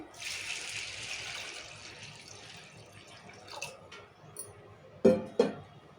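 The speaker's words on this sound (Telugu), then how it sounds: "ఇప్పుడు వాటర్ పోసుకొని" Water runs and splashes steadily into a pot of washed lentils at first, then fades, followed by a few sharp clanks and knocks of the pot nearby.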